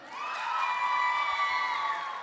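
A convention crowd at Japan Expo Sud cheers and whoops in a sustained swell, high shouted voices blending into a bright roar that rises and then tapers at the end.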